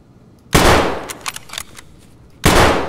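AK-74 rifle fire in a video game: two loud, sharp bursts of gunshots a couple of seconds apart, separated by quieter clattering and mechanical clicks, with no talk.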